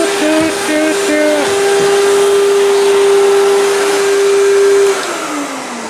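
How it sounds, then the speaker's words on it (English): A Eureka Mighty Mite vacuum cleaner runs close by with a loud, steady motor whine that stutters briefly as it starts, holds, then winds down after a few seconds. "A vacuum right here. A Eureka."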